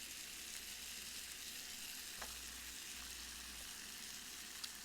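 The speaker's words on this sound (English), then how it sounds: "slather 1 tortilla with butter. And then put it on the grill." A butter-slathered tortilla sizzles on a grill, a steady, even frying hiss with a few faint ticks, continuous and without speech.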